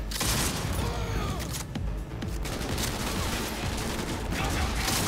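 A powerful grenade-launcher-like weapon firing in the video game Cyberpunk 2077, producing dense continuous booming fusillade and blasts, loud and close throughout.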